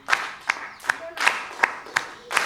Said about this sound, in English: So if you clap a waltz and you clap a jig, I'll show you.